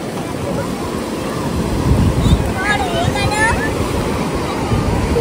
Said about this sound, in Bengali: এটা সমুদ্র।